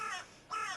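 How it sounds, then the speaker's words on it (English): A crow outdoors gives two harsh caws about half a second apart, moderately distant and fairly quiet, with no talking over them. "Crow's having a talk at me outside"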